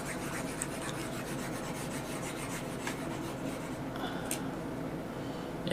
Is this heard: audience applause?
no